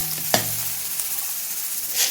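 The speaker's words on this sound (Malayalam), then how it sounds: "ഫ്ലെയിം ഒന്ന് കുറച്ച് വെച്ചിട്ട് ഇളക്കി കൊടുക്കാം." Sliced onions hiss gently on a low flame for a Kerala-style fish curry, a steady soft sizzle with one sharp utensil knock early and a brief scrape toward the end.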